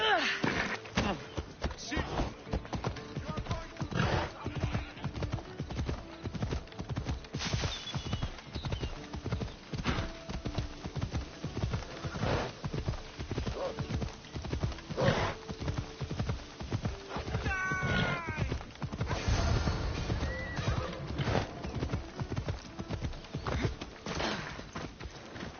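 Steady horse hooves clip-clop in a video game alongside occasional neighs and whinnies, with voices talking over the continuous hoofbeats throughout.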